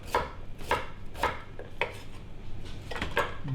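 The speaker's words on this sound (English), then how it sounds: "So I'll start with some coriander roots and just roughly chop" A kitchen knife chops coriander roots, fresh turmeric and ginger on a board for a vegan Thai green curry, with about seven sharp knocks spaced unevenly, close and moderately loud with no talk.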